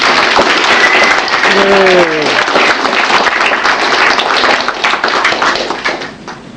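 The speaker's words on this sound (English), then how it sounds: "So I think a round of applause." A crowd applauds with dense, steady clapping and a few cheering voices, holding strong before tapering off at the end.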